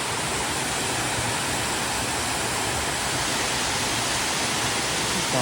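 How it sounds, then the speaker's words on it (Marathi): A waterfall beside a temple in the Konkan region roars as a dense, steady rush of water, loud and unbroken throughout, with no voices. "बाजूला अजून एक धबधबा आहे, तो पण बघूया आपण."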